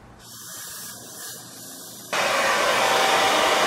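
A hair dryer blows on a styled long mustache, first a softer whir that switches abruptly to a louder, harsher full-power rush after about two seconds, close and steady.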